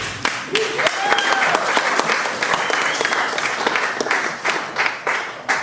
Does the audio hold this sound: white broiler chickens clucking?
no